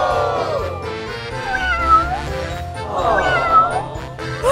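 A cartoon cat meows in long, drawn-out wavering cries, two prominent calls rising and falling, loud and close over music-like background sound.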